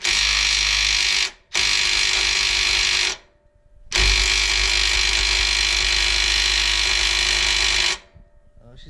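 An impact wrench loosens a large bolt on a Ford Excursion during a 2-inch lift install, hammering out in loud sustained bursts, a short one then a long run, with brief pauses between.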